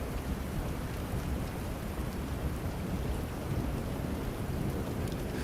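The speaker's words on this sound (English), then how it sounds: "the rain continued its gentle, unbroken work against the glass." Steady, dense rain patters continuously against window glass, an even wash of droplets with no pauses and no voices.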